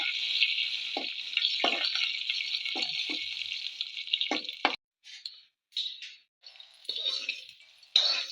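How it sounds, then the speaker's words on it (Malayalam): Curry leaves crackle in hot oil with popping mustard seeds while a Kerala curry leaf chutney is made, giving a loud, steady close sizzle that breaks into short bursts near the end, with faint stirring scrapes. "കുറച്ച് കറിവേപ്പില ഇട്ട് കൊടുത്തിട്ടുണ്ട്."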